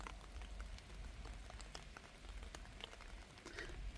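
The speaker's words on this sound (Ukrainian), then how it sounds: "Гарний дощик, так поступово він тихенько йде, не пускається, як з відра, а поступово накрапає." Soft, steady patter of light, gentle rain falling on roses and garden surfaces, with scattered drops tapping irregularly; quiet and continuous with no voices.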